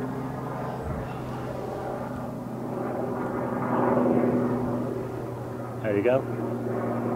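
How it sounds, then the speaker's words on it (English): A helicopter, based in the Isle of Man, drones steadily in the background, swelling slightly as it passes, while a person talks over it nearby. "a very, very noisy helicopter going past at the moment"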